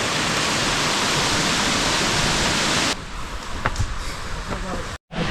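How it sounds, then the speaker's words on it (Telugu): A waterfall beside the temple steps at Punyagiri, Araku, roars as a loud, steady broadband rush for about three seconds before dropping to a softer, more distant wash with light scattered sounds. "మనకి మెట్లంతా కూడా నడుస్తున్నంతసేపు ఈ వాటర్ ఫాల్ కనిపిస్తుంది"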